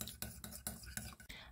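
A utensil stirs salad ingredients in a bowl, scraping in repeated close strokes with a steady rhythm, loud and clear and with no talking.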